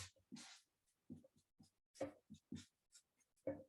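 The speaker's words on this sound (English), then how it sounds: "Let me write this down." Handwriting being jotted down, heard as short, close scratchy pen strokes in separate bursts with brief pauses between them and no talking.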